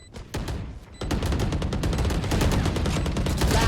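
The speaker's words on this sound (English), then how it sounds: "Lots of firing." Rapid, dense bursts of gunfire in the video game Valorant, with a short opening volley, a brief pause, then continuous loud automatic fire through to the end.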